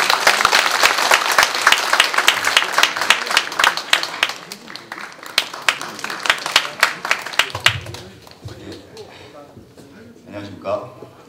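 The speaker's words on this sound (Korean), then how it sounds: "응원의 박수 부탁드리겠습니다." Loud audience applause at a party joint campaign rally in Jeonju as a youth committee chair candidate is introduced, dense clapping that thins and fades toward the end as a speaker begins.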